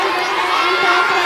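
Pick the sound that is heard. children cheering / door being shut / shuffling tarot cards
children cheering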